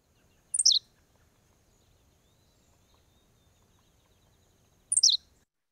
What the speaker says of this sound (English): So let's listen to an example of a very short song, this one being the henslow sparrow.